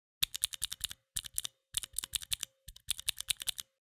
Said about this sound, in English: They're also pretty loud, and here's what they sound like.